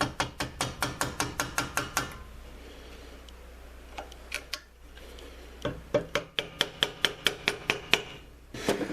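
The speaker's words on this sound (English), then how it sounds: "it's going to give it a light tap with a flathead screwdriver to rotate that ring around" Rapid light metallic taps from a flathead screwdriver striking a U-joint clip ring, struck in quick even bursts of about ten taps each, with a pause between bursts; close and crisp with no talking.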